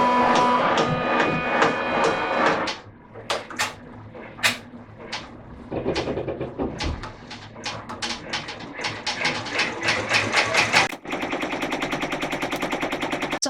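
A Brother Entrepreneur Pro X PR1055X multi-needle embroidery machine stitching, with fast rhythmic mechanical clatter and repeated sharp taps rising to a steady loud whir near the end, close by with no talk.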